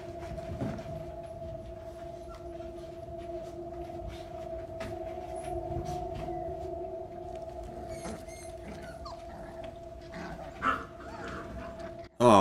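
Dogs whine and whimper in a drawn-out, tonal way with scattered faint barks in a scene from the Chernobyl drama series, set against a steady hum. Voices are heard faintly, and a louder burst comes at the end.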